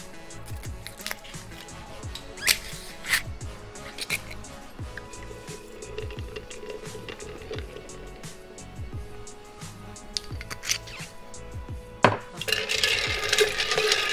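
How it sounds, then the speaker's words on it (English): A batched gin punch being stirred, with ice knocking and clinking against the container in irregular, fairly close taps and a louder splashy clatter near the end. "So just give it a bit of a stir."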